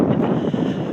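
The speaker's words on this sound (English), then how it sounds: "Very blustery and windy and rainy night" Blustery wind buffets the microphone at a rugby stadium on a windy, rainy night, a continuous loud rumble with no one talking.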